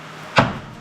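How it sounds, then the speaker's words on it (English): A shed door slams shut in rainy weather, giving one sharp, loud wooden bang that decays quickly over a steady background patter. "it slammed shut"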